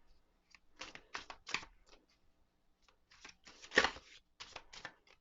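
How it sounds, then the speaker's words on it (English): Halloween tarot cards are shuffled by hand in quick riffling bursts, several short crisp flurries separated by brief pauses, close and quiet with no talking. "let's go ahead and shuffle the cards, still using my Halloween tarot"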